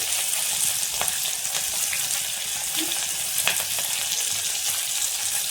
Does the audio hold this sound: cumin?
yes